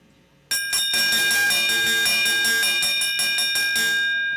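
A bell rings out loudly and continuously at a speed skating race, rapid repeated strikes sustained for about four seconds to signal the final lap.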